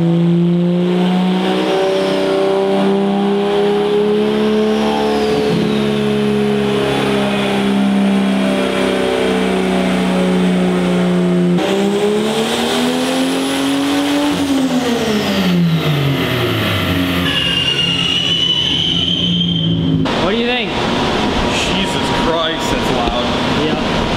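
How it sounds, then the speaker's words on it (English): A turbocharged BMW E30 engine strapped to a dyno drones loudly, then climbs in pitch through rising revs and drops off before a final burst, heard close with talk over it. "We got the E30 all strapped down on the dyno, and now we're setting up all the software so we can start doing some pulls."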